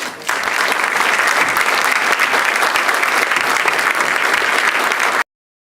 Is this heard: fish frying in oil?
no